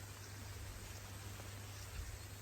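Steady low mains hum from overhead power lines above a farm field, a constant buzzing drone with a faint hiss over it in light rain, continuous and unbroken.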